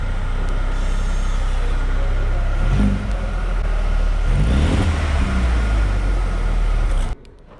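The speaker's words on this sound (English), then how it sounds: "listen to the sound from the engine" Engine of a 2020 Mercedes-AMG A35 4MATIC sedan running steadily and loud up close, with a couple of swelling revs in the middle before it cuts off abruptly near the end.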